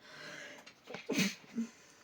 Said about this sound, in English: oh, let's sneeze.